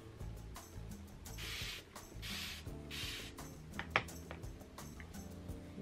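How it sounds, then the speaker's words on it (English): A spray bottle mists water onto hair in three short, soft hissing bursts close by, heard over steady background music. "Spray the water."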